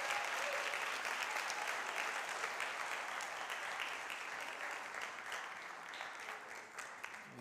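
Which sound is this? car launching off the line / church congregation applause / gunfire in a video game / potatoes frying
church congregation applause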